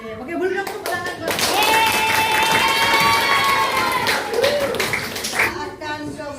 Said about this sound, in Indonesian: boleh dong tepuk tangan buat